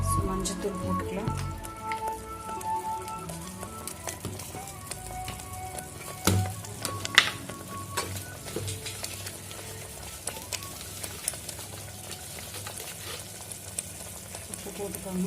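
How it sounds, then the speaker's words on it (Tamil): Tomato biryani masala bubbles and sizzles steadily in a pan, a continuous close crackle with scattered pops and a few sharper clinks, no talk over it. "ஸோ பாருங்கள், நல்லா கொதிச்சுட்டு இருக்குது"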